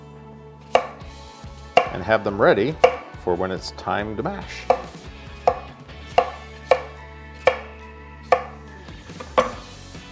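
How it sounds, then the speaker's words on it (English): A knife chops through potatoes into roughly quarter-inch slices on a cutting board in sharp, regular thuds, close by, while a person speaks briefly over the first few cuts. "I'm going to slice them up in just probably about 1/4 inch slices"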